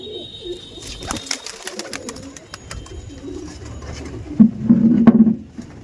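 Malbai pigeons at a pigeon dealer's loft cooing nearby, a low burbling coo swelling toward the end amid scattered rustling and handling noise.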